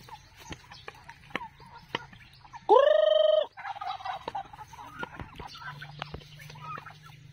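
A turkey lets out one loud, close gobble lasting under a second, surrounded by quieter clucks and farmyard ticks.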